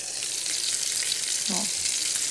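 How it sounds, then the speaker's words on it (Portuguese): Meat frying in a pan during a simple home dinner, a steady close sizzle and crackle running throughout, with a brief soft thump from the cooking partway through. "já tá fritando a carninha"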